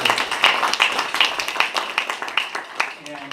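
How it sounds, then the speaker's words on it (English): Audience applause at a health care conversation event, a dense wash of many hands clapping at steady volume that thins out toward the end. "I think a round of applause."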